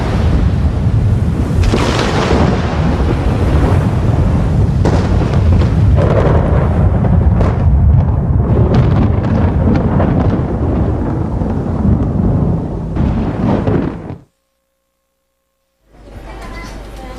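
Thunder from a lightning strike, a loud rolling rumble with crackling booms that surges and sustains before cutting to near silence, then returns faintly under narration.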